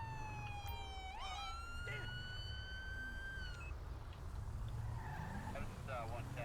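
A police car siren wails in GTA 5 with the LSPDFR UK mod, rising and sweeping through its tones over steady engine and road rumble, fairly faint and in the background, with a voice talking under it.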